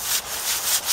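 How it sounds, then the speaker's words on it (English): Rough-grade sandpaper rubs briskly along a wooden walking stick, making a dry, raspy scratching in quick back-and-forth strokes, close and steady. "I'm going to use a rough grade sandpaper here."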